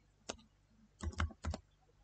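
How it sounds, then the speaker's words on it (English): Close keystrokes on a computer keyboard as a message is typed: one lone tap, then a quick cluster of clicks, then a final pair, with quiet pauses between. "Now type your message"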